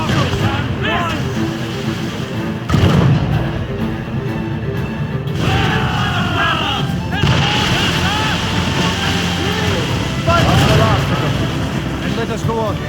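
Ship cannons fire repeatedly in a naval battle in the video game Assassin's Creed Rogue, booming over rushing sea and sailing noise while shouted orders from the crew run throughout.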